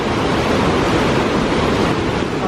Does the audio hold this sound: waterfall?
yes